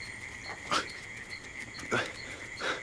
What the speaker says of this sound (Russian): Пес, ты чей?